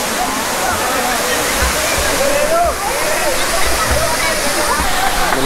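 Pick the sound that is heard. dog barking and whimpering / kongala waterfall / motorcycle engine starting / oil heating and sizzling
kongala waterfall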